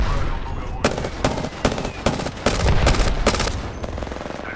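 Rapid gunfire in an Apex Legends match, a close, loud string of sharp shots in quick bursts with brief gaps, layered over ongoing game noise.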